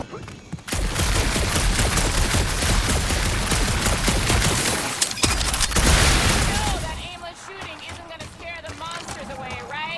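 Dense bursts of film gunfire crackle and boom in a sustained barrage for several seconds, then break off into quieter moments where voices speak.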